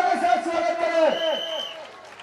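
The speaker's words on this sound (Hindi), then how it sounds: "जोरदार तालियों के साथ स्वागत करें" A crowd at a rural stage show cheers and shouts a welcome to an arriving guest in a loud, sustained burst of voices with rising and falling whoops.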